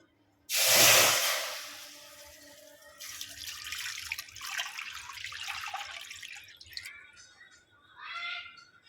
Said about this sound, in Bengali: আমি এই বাটি মেপেই জল দিয়ে দেবো